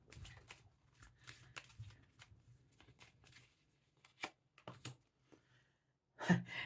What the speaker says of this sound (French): Allez, 2 cartes, s'il vous plaît, du Tanis Lenormand pour finir ce tirage.